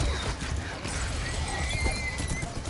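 Horses clip-clopping and neighing in the Minecraft: Story Mode video game, steady hoofbeats with a whinny, loud and close amid game sounds, with brief speech.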